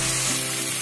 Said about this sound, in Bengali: এখন কিছুক্ষণ রেখে উল্টে পাল্টে ভেজে নিব 5 মিনিট